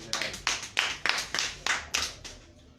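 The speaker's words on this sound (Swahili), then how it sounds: "Tupigie Mwenyezi Mungu makofi mazuri." A church congregation claps in unison in praise to God, about nine sharp, evenly spaced claps in a steady rhythm, close and moderately loud, with no talking.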